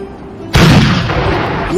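A cannon fires once, a loud, sudden boom with a long rumbling roll afterward that carries to the end.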